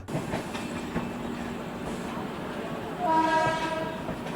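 Train pulling into Ambala station on a Kolkata–Ladakh trip, a rumbling carriage with rhythmic rail clatter and a horn sounding toward the end, muffled voices faintly underneath.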